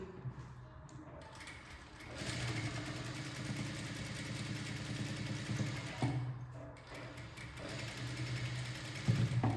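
Sewing machine stitching a baby frock, joining sleeves at the shoulder and neck, runs in a steady rapid whir from about two seconds on, with a brief pause near six seconds before resuming, close and continuous.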